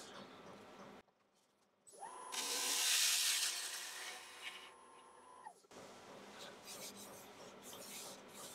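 A wood-turned piece spins on a lathe while sandpaper is pressed against it, a steady loud rushing hiss with a faint high whine that swells for a few seconds and then cuts off, set between quieter workshop hum.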